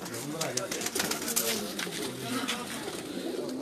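Pigeons coo close by in a rhythmic murmur of soft calls, mixed with voices talking over them throughout.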